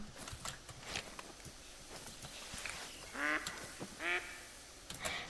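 Ducks give two clear quacks a second apart in the hunting video game theHunter: Call of the Wild, fairly close, amid scattered faint clicks and rustling.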